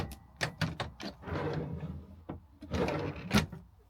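Several drawers are opened and closed in the kitchen of an Auto-Sleeper Kingham motorhome, a series of close, sharp sliding thuds and clicks in quick succession with brief rumbling runner noise between them.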